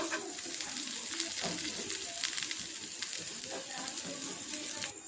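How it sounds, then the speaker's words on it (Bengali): Aloo paratha, a potato-stuffed flatbread, frying in oil on a pan, giving a steady close sizzle with faint crackles and occasional scraping throughout. "তেল দিয়ে এবারে এই আলুর পরোটাগুলো লাল লাল করে ভেজে নেব।"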